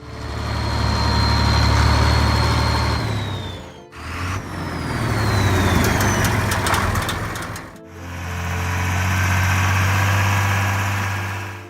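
A John Deere 4020 tractor from the 1960s idles with a steady low diesel rumble, running continuously across three segments with brief dips between them and no talk.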